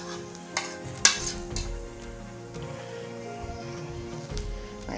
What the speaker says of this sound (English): Looking for a little bit of that sizzle